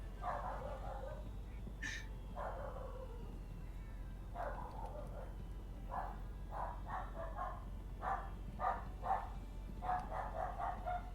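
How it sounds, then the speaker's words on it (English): Several dogs bark at home in a run of short, fairly faint barks heard distantly behind a quiet room tone, with a person's voice briefly mixed in. "They're just barking a lot."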